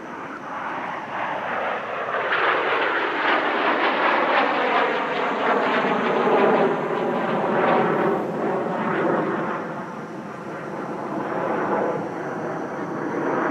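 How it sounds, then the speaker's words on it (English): Seven jets of the Al Fursan aerobatic team roar through synchronised Lomshavak manoeuvres at the Dubai Airshow, a loud, sustained engine rumble and whine that swells and fades across the sky. "both aircraft perform synchronised Lomshavaks at opposite ends of the display line"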